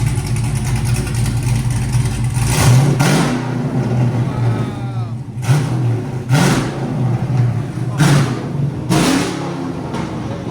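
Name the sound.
cammed Chevy Caprice 6.0L V8 revving with open long tube headers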